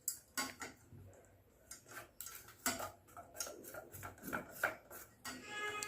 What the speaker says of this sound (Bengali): এটাকে আমি মিশিয়ে দিচ্ছি।